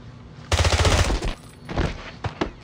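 Gunfire from the video game James Bond 007 Blood Stone: a loud rapid automatic burst, then scattered single shots and impacts, close and punchy.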